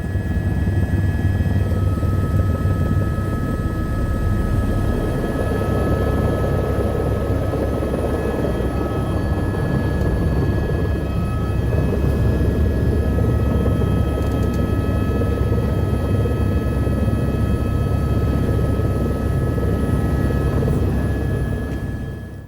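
Helicopter flying over Mendenhall Glacier in Alaska, a loud, continuous rotor and engine drone with steady tonal whine, heard from inside the cabin with no speech.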